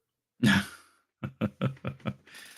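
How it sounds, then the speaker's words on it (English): One harsh throat-clearing cough, then a quick series of five short coughs in a row, close and fairly quiet. "Oh, I got a cough"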